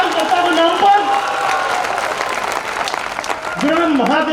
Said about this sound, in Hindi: ताली बजाओ बहुत जोरदार इन कार्यकर्ता के नाम पर